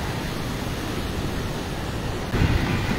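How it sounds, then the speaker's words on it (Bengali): Rough, storm-whipped sea waves churn at Digha beach during a tidal surge. A continuous close roar swells louder near the end. "সমুদ্র প্রচণ্ড উত্তাল যথেষ্ট পরিমাণে উত্তাল সমুদ্র"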